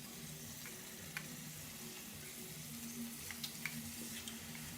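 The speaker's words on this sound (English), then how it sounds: "I want this to cook a little bit more." Food frying in a pan on a stovetop, a quiet steady sizzle with a few faint ticks and stirring clicks, heard alone without talk.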